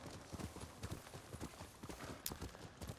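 Horse hooves clip-clop in a steady, close rhythm while riding along a path in Ghost of Tsushima, the beats standing out clearly over a soft game ambience.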